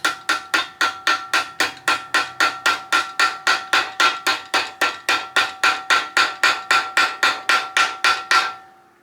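Light, evenly spaced hammer taps on a Miata engine part, likely a valve guide or seal being eased into the cylinder head; about thirty crisp metallic ticks in steady rhythm, close and clear with no talk.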